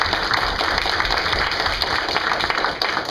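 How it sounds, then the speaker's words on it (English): An audience breaks into applause, a continuous patter of many hands clapping at moderate volume that carries on evenly before easing slightly at the end. "we got our first applause"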